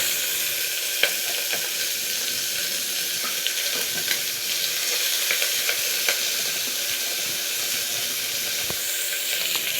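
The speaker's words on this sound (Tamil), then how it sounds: "வெங்காயம் போட்டு நல்லா வதக்கிட்டு" Onions sauté in a pan for a green gram gravy, a steady bright sizzle with occasional soft stirring scrapes and light clicks, close and even throughout, no speech.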